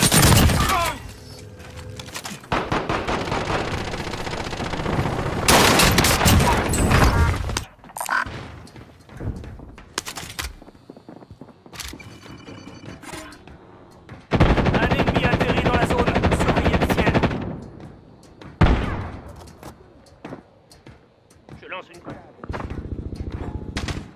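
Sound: gunfire in the video game Call of Duty: Warzone

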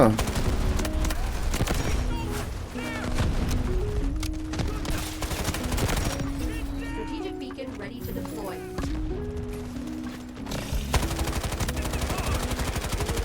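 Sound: gunfire in the video game Delta Force

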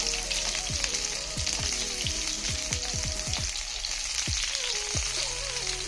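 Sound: dosa frying in hot oil

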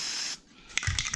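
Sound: spray paint can spraying a metal sign

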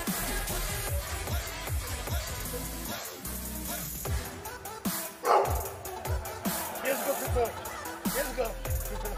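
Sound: small dog barking

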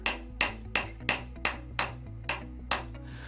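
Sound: hammer tapping a front sight into a pistol dovetail

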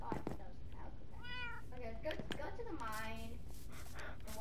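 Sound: calico cat meowing in the video game Minecraft

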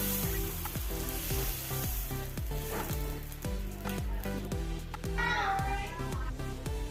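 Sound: moong dosa sizzling on pan without oil

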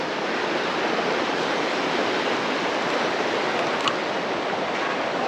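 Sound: waterfalls on a monsoon trek

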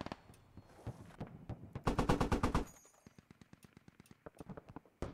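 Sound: gunfire in the video game Squad

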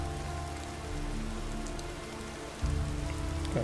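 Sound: rain falling in the video game Gothic 2

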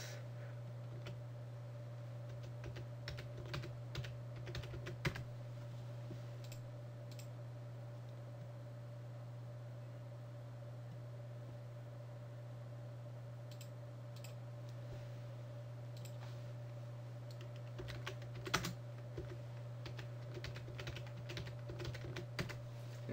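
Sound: typing router commands on a computer keyboard

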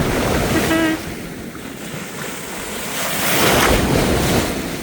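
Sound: big sea waves breaking

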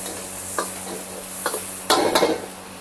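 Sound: stir-frying chili paste in a pan

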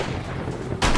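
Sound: gunshots in the video game 7 Days To Die

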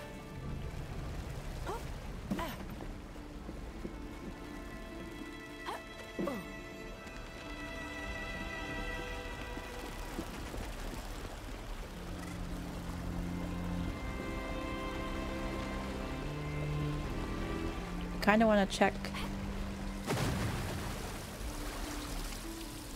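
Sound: waterfall in the video game Grow: Song of the Evertree

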